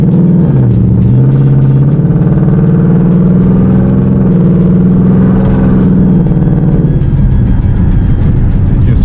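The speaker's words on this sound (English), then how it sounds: "we're actually driving the Mustang" Ford Mustang driving, a loud continuous engine drone with a low rumble and gently shifting pitch, heard from inside the car.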